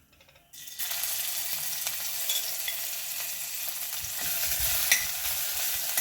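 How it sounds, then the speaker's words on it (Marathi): Chopped green chili, garlic and ginger drop into hot cumin, and after a brief quiet a loud, sustained sizzle bursts up and continues with stirring scrapes, no talking. "आता आपण यामध्ये हिरवी मिरची, लसूण, अद्रक बारीक करून घेतलेला आहे, हे आपण यामध्ये घालून घेणार आहोत."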